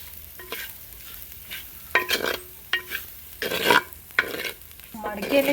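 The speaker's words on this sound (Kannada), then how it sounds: "ಈಗ ಇದಕ್ಕೆ ನಾವು ಕುದ್ದಿಟ್ಕೊಂಡಿರುವಂಥ ಕೊಬ್ಬರಿನ ಹಾಕಬೇಕು ಕೆಂಪು ಆಗೋವರೆಗೂ ಫ್ರೈ ಮಾಡ್ಕೋಬೇಕು" Grated coconut is fried in coconut oil in a pan until reddish for a Kerala-style bangude (mackerel) fish curry, with close, intermittent spatula scrapes and stirring clatter over short bursts of sizzle.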